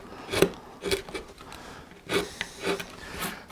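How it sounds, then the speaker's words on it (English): Wood carving cuts made with a V-tool and gouges in a coastal relief panel: four or five distinct rasping, scraping strokes spaced irregularly, close and moderately quiet, with no talking. "I'm going to overlay that with more cuts from the V-tool"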